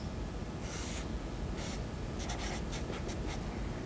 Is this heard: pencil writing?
yes